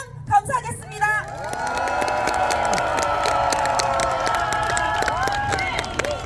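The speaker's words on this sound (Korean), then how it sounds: "큰 박수와 함성으로 환영해 주시면 감사하겠습니다." Rally crowd greeting candidate number 8 in Dalseo, Daegu, with sustained cheering, shouting and applause that swells after a brief opening and holds steady and loud throughout.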